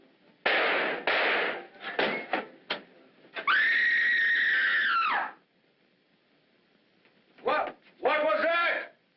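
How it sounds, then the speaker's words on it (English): A woman's scream rings out in an old 1945 film drama, a long sustained shriek in the middle, with sharp bangs and clangs before it and another cry-like burst afterward. "Who screamed?"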